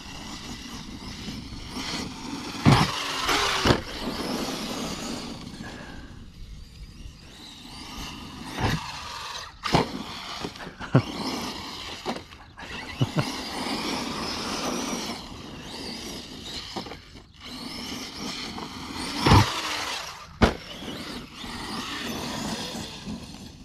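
An Arrma Mojave RC car runs across a lawn on stiffened suspension with limited travel, its electric motor whining and surging in repeated bursts, with sharp knocks and bumps from the chassis hitting the ground.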